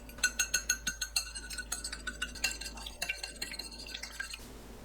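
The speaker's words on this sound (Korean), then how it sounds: "계란을 풀어주세요." Eggs beaten in a bowl with a utensil, quick rhythmic clinking and tapping strokes against the bowl, steady then slightly irregular, close and fairly quiet without talk.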